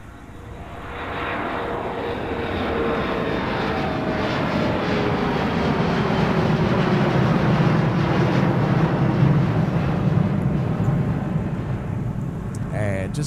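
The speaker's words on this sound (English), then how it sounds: "disappearing into the cloud cover it goes. It's our CRJ departing MSP" Delta CRJ regional jet departing MSP on a muggy winter day, its engine roar swelling up and sustained with a whining tone sliding across it, a voice speaking over it near the end.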